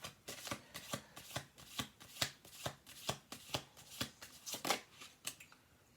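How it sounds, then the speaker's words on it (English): Cards being riffle-shuffled and bridged repeatedly, a rhythmic series of crisp ruffling bursts, close by with no talking. "I'm going to do one more shuffle."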